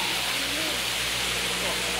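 Sai Yok waterfall in Kanchanaburi, Thailand, pours out a dense, constant rushing roar, close and loud, with no pause across the short span.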